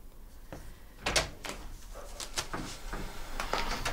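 A door opens inside a house during a tense drama scene, with a few soft clicks and bumps of the handle and frame, fairly quiet and close, with no talking.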